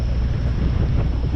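Strong, steady wind buffets the microphone on a chilly, windy day on a New York City street, a dense low rumble with no voices.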